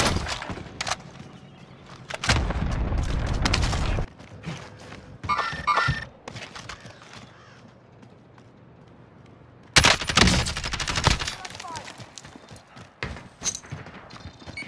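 Gunfire in the Call of Duty Rebirth Island video game, with bursts of automatic rifle fire and scattered single shots, some loud and near, others fainter, separated by quieter gaps.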